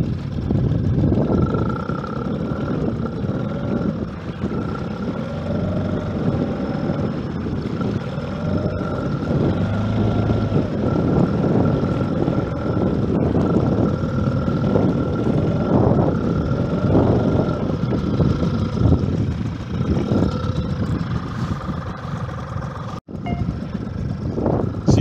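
Small boat with a Mikatsu 4 hp outboard motor running steadily on open water, a continuous near droning hum with no pauses.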